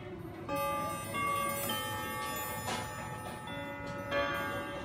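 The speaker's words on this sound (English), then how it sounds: "Just a single chime." An Emperor grandfather clock strikes, with several ringing metallic chime tones that start abruptly and decay over a quiet background, spaced unevenly, and a bright struck note sounding near the middle.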